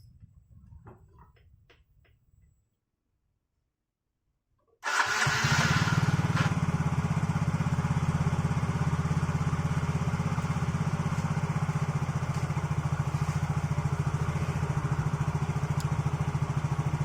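A motorcycle engine, freshly repaired after hard starting, starts abruptly after a quiet pause and settles into a loud, steady close-up idle with a ticking rhythm, following faint handling noises.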